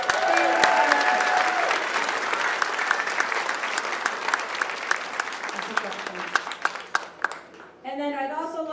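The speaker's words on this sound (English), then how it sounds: "Let's give a round of applause" Audience applause at a senior center grand opening, loud dense clapping for several seconds that thins near the end before a voice begins speaking.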